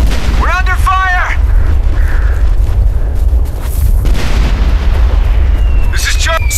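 Gunfire and heavy booms rumble through a battle in the military shooter Operation Flashpoint: Red River, a dense low roar of shots and blasts with brief radio-like chatter over it.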